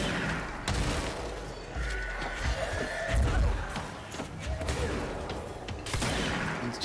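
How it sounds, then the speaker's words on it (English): Exploding enemies blowing up in the video game Control, a busy run of booms and crackling blasts over rumbling combat noise, loud and close with scattered sharp impacts throughout. "Really do enjoy throwing exploding enemies at other exploding enemies."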